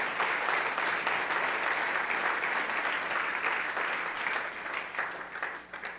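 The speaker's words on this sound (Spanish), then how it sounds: "Dele fuerte el aplauso al Señor." A Spanish-speaking Christian church congregation applauds, a dense, sustained roar of many hands clapping that fills the room and holds steady before tapering slightly at the end.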